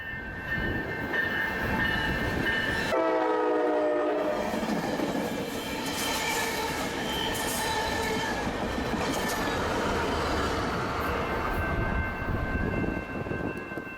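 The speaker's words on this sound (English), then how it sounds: "the crossing arms went down again for a surprise southbound coaster deadhead run to San Diego." A southbound Coaster commuter train runs past a San Diego grade crossing, horn blaring in long harmonic blasts before the loud, steady roar of railcars and rolling wheels takes over, with occasional squeal.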